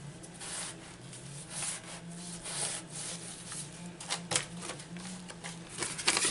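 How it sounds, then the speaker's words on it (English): Close, steady rubbing of a cloth or paper across a glued junk journal page, with soft scratchy strokes, several brief louder swipes near the end, and no talking. "So let's just wipe the excess glue."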